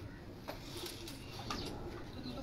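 A group of pigeons from a Lahore breeder's loft coos in low, rolling calls, several birds overlapping at moderate distance amid a busy ambient background.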